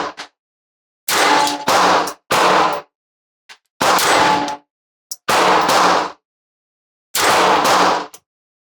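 A Walther PPK/s .380 ACP pistol fires at an outdoor range, several sharp, loud single shots spaced irregularly with a couple of quieter clicks between them.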